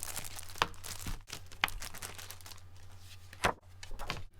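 Crinkly plastic of a zipper pocket for a Traveler's Notebook being handled, with a few sharp crackling bursts and softer rustling between them, close by, plus a low steady hum underneath.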